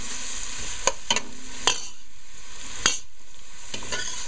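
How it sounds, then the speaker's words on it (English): Grated garlic sautés in a pan for basmati rice with a soft steady sizzle, and a spoon scrapes and stirs it in several sharp clicks. "So let this just saute a little."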